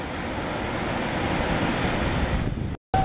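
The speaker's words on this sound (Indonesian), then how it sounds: "Ombaknya lumayan besar juga ya." Ocean waves break at a beach in Bali, a loud continuous wash of surf with wind noise, ending in a brief dropout.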